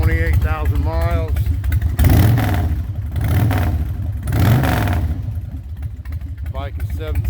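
Throaty carbureted motorcycle engine, a 17-year-old Harley-Davidson Night Train with 28,000 miles, revving hard in several swells with a deep, rumbling idle between them, loud and close, with brief talk at the start.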